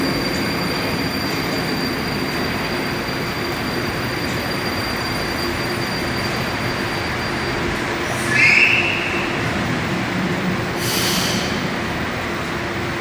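A Moscow metro train rolls into a station with a steady low rumble and rail noise, a brief metallic wheel squeal rising near the end.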